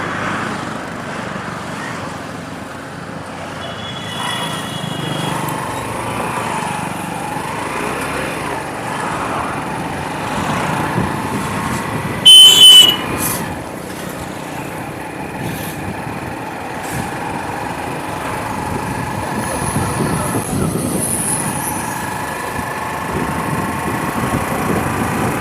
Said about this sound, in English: This is my motorbike and I'm driving at around